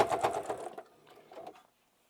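A sewing machine stitching the bottom edge of the lining of a fabric book sleeve, giving a close, rapid mechanical whirr that slows, pauses, runs again in a short burst and then stops.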